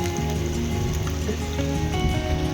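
Monsoon rain falling steadily at a campsite at the foot of Lohagad fort, a dense continuous patter close by with no voices.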